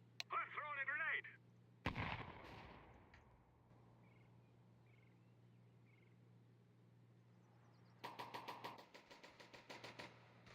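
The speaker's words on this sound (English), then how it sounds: "I'm throwing a grenade." A grenade going off in the Counter-Strike 2 video game, one sharp loud blast with a decaying rumble, framed by brief chirps before it and a rapid burst of gunfire near the end, fairly quiet overall.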